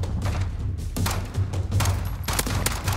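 Rapid pistol gunfire from the M19 in Call of Duty Modern Warfare, a dense run of sharp close shots with thumps over about three seconds, heard alone without talk.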